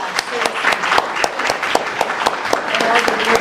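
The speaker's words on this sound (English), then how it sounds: "Clap it up for that." A crowd at an industry professionals discussion panel claps, a steady patter of applause with sharp individual claps standing out throughout, fairly loud and without speech.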